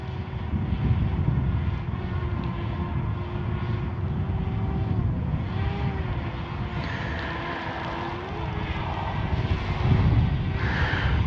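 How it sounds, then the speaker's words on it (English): A Hubsan Ace 2 camera drone flying in low light as it is brought back down, giving a steady, droning propeller whine with wavering tones that stays loud and constant throughout. "Let's bring this drone back down to me"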